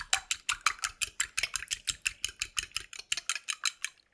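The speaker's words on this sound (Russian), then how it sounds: "мы сейчас с вами берем яйцо и немножко его взбиваем" An egg being whisked for a spring nettle and chicken soup: about twenty quick, evenly spaced clinks of a fork or whisk against a bowl, close and crisp, stopping abruptly near the end with no talking.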